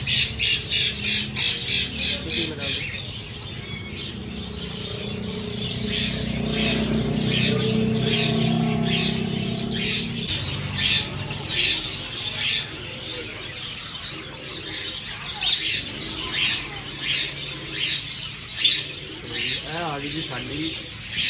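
Small parrots squawk and chirp in shrill, repeated bursts throughout, fairly close, over a constant background hum with occasional louder calls.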